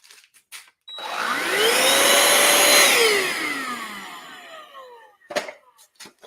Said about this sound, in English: Because this vacuum will run this 8.